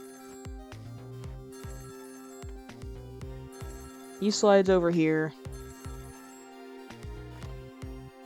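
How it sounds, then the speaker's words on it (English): A telephone in the Ghost Trick video game gives a repeated electronic ring in steady bursts over looping game music while someone talks over it. "Phone rings."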